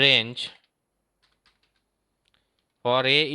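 Light, sparse keystrokes of Python code being typed on a computer keyboard, quiet and scattered through a pause between bursts of a man's speech.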